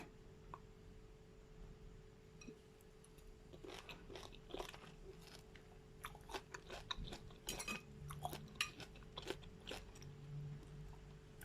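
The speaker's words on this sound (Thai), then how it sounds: "เดี๋ยวลองชิมกันดูนะ ว่าเป็นยังไงค่ะ" Someone eats microwave stir-fried Chinese cabbage with pork in oyster sauce and hot rice. Faint, close crunching bites and soft chewing come in irregular bursts over a low background hum, with light cutlery clinks.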